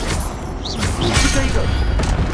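Fire spell cast in the video game Hogwarts Legacy, a short whooshing burst of magical flame under loud game noise and voices calling out spell names.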